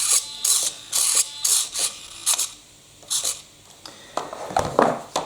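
Servo steering on a Bruder CAT telehandler scale model gives a series of short, whirring, ratchety mechanical bursts, close and fairly loud, separated by brief pauses, with no talk.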